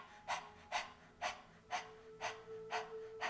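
A person imitates a dog's panting: seven quick, evenly spaced breathy huffs, close and fairly quiet, with no talking.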